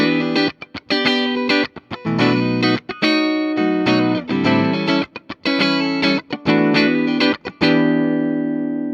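A Schecter electric guitar with EMG active pickups played through a distorted amp, loud chugging chords and riffs with brief muted gaps, harmonically rich and sustained, no voices.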